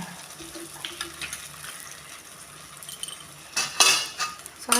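Spatula stirring soybean batter in a metal kadai, with soft scraping and clinks that build into louder, busier metallic scrapes near the end, close and without talk.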